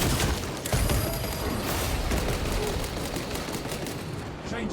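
Dense, continuous gunfire in the video game Space Marine 2, rapid overlapping shots and blasts forming a loud, sustained barrage from start to finish.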